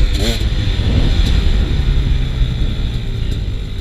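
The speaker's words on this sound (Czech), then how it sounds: "Je to nějaká čtyřkolka." A quad bike engine drones steadily nearby at moderate loudness, with a continuous rumble and no clear revving.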